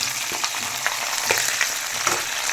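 Sliced bitter gourd frying in oil with curry leaves, a dense close crackle with scattered pops and stirring scrapes throughout, ending abruptly.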